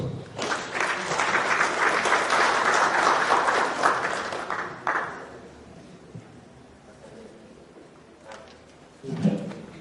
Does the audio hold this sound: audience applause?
yes